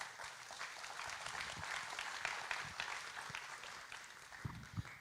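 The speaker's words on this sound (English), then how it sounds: "So big applause for Vivek to explain this." Audience applause at a Frontiers by Paradigm conference, a steady, moderately distant wash of clapping that holds through the moment with a few louder claps near the end.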